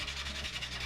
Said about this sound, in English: I'm really picky when I do my sanding.